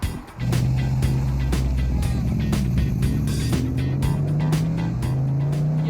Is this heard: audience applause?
no